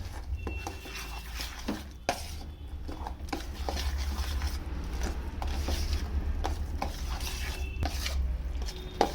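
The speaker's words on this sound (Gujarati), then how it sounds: "બરાબર ખીરું મિક્સ કરી લેવાનું છે" Dhokla batter of yogurt and sago flour stirred in a bowl, with a continuous close scraping and a steady low rumble carrying irregular clicks of a spoon against the side, and no voices.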